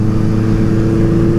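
A Honda CB550 Four motorcycle rides along with its engine giving a steady, loud, low droning hum and an even throb heard close up, without pauses or talking.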